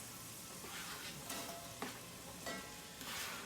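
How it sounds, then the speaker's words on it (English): Chopped onions frying in the same cooking pot the chicken was just browned in, a steady close sizzle with soft stirring scrapes now and then, no voices. "where I've removed the chicken, I am going to add my onions"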